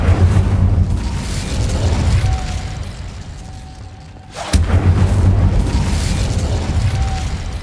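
A fire spell cast in Hogwarts Legacy, heard as a deep, loud whooshing boom over game ambience. After a sudden cutoff near the middle, a second burst of roaring blast follows.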